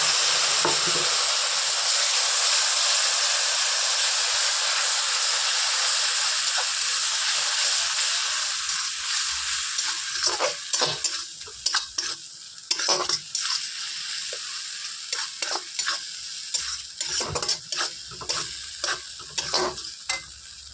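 Prawn curry with potatoes and mustard powder sizzles loudly in a pan, a steady hiss at first, then repeated scraping stirs and clatters punctuate the frying.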